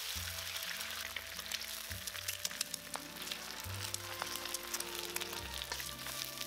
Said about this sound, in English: Now we're gonna crack in 2 eggs.